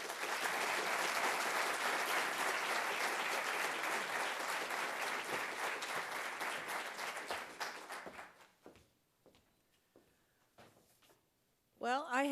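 Loud, sustained audience applause at a portrait presentation ceremony, dense clapping that holds steady for about eight seconds before thinning into scattered claps and dying away, with a voice starting at the end.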